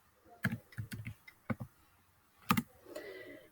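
Computer keyboard keys being typed in a few short bursts of separate clicks, close and fairly clear, then a brief pause and a final cluster of taps trailing into faint noise.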